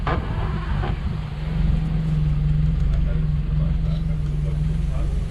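A 1992 Toyota Corolla 1.3 SEG automatic idles with a steady, slightly uneven low hum and rumble, close and fairly loud, while someone talks over it.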